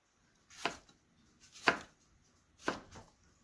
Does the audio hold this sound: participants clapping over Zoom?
no